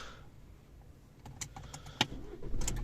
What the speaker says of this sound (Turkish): aynı zamanda aracımızı kontakla da çalıştırabiliyoruz kontağımızı açtık